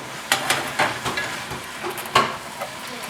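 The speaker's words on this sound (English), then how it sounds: "I'm just going to continue breaking out my meat down." Ground meat frying in a pan for a spicy loose meat sandwich is broken up with a utensil, making a soft sizzle under a series of irregular scraping and tapping strokes, close up and without voices.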